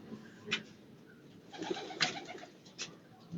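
Soft pigeon cooing with a few brief bursts of bird calls and wing flutters, fairly close, over a quiet background.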